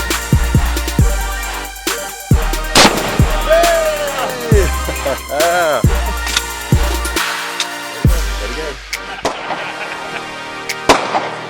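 Gunshots and Tannerite blasts destroying a TV outdoors at Memaloose Trail, Oregon, with an XD 45 subcompact pistol: a loud, irregular string of sharp cracks and booms across the whole span, some ringing out, with no speech.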